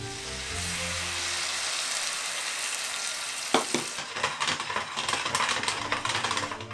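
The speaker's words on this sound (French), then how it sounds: "Je vais y ajouter le jus d'orange." Orange juice poured into melted sugar and butter for crêpes Suzette, a broad steady sizzle that breaks into sharper bubbling and spitting as it simmers, close and fairly loud, no voices.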